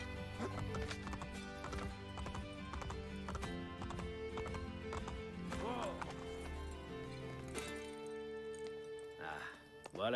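Horses gallop in the video game Assassin's Creed Brotherhood, with rapid rhythmic hoofbeats and a whinny over a musical score, and voices speak through the passage.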